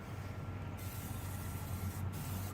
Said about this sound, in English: So get everything sprayed up all over the place.